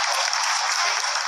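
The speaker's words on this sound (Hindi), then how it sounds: "Lot of applause indicates that till now the performance has been nominal." Applause fills a mission control room during a lunar landing's descent phase, a brief, dense and steady burst of many hands clapping at once.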